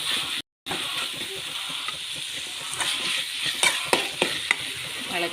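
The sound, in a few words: stirring chopped onion and tomato frying in a pan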